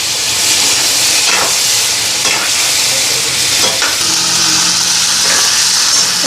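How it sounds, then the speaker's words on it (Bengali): Dried red chillies and spices fry in a wok, giving a loud, steady sizzle and hiss with scraping stir strokes recurring about every second, no voices over it. "এখানে শুকনো লঙ্কা একবারে দিয়ে দিচ্ছি।"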